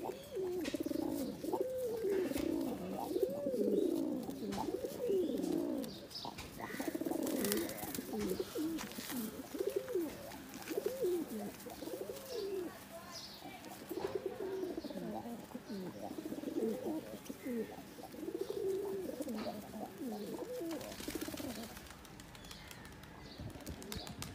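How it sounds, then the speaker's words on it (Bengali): Kaldam pigeons coo in repeated low throaty bursts at close range, overlapping into a near-continuous rhythmic warble, with occasional wing flaps and faint talk in the background. "দোবাস কবুতরগুলো ফ্লাই করতেছে মোটামুটি ভালো জানি"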